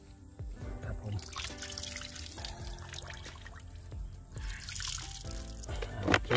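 Water pours and trickles over Taiwanese shallot bulbs set to soak, a soft, uneven splashing and dribbling with small drips, close and fairly quiet.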